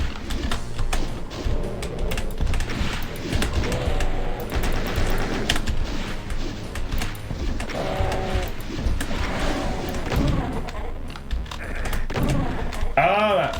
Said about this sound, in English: Followed up by another chain gunner who is much closer than I can